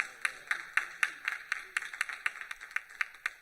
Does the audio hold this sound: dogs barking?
no